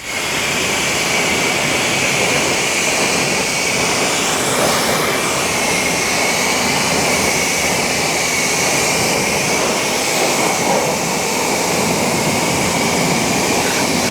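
Steady, loud hiss of a pressure water spray rinsing a car wheel and tire, unbroken for the whole stretch, close to the mic with no voices.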